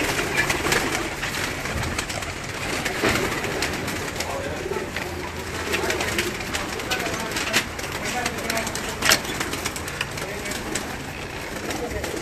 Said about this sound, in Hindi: कबूतर आ गए।